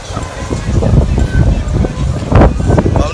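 Heavy wind buffets the microphone outdoors on a walk toward a Jamaican watchtower, a loud continuous rumbling roar with gusts, while someone talks over it.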